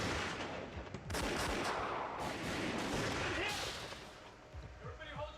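Gunfire sound effect in a live audio drama police standoff, a dense sustained volley of rapid shots and bursts lasting several seconds, loud and close, fading toward the end with a few scattered pops.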